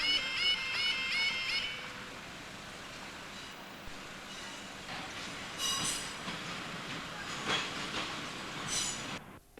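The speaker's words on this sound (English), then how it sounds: "The Central Trains unit is bound for Newark." A Central Trains diesel multiple unit bound for Newark passes near High Street level crossing in Lincoln, its rumble and wheel noise rising and falling with squealing tones and rail clicks, moderately near, with no voices.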